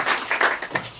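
Audience applause at a reading-aloud championship in Izhevsk, a brief burst of steady hand clapping from a crowd, moderately loud and alone.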